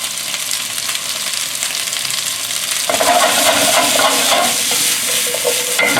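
Asparagus stir-fried in a pan with garlic and olive, a loud close sizzle that jumps in intensity partway through as the pieces are tossed and stirred, with no talking.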